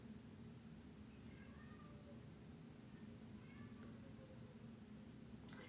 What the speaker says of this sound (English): That damn cat meowing.